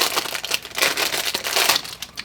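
A leather wallet is unwrapped from its plastic bag, the thin plastic crinkling and rustling loudly in quick, uneven bursts close to the microphone.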